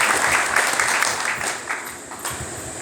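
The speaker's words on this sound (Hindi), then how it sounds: "जोरदार तालियां" Loud, sustained applause from an audience gathered at a school merit-ceremony event in Uttarakhand, steady dense clapping for about three seconds with no talk over it.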